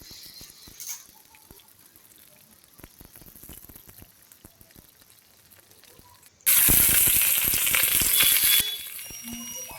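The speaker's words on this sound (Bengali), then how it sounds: "আস্তে আস্তে জাল দিয়ে পটলগুলো লাল লাল করে ভাজবো।" Pointed gourd frying in oil in a wok over a low flame: faint, scattered crackles and pops at first, then a sudden loud, dense sizzle that eases slightly toward the end.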